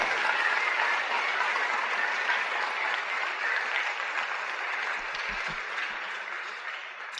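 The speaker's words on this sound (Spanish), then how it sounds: "le da usted un aplauso al Señor" A church congregation claps together in a sustained round of applause during a Spanish-language sermon, a soft, even wash of many hands that fades slightly toward the end, with a few low thumps near the close.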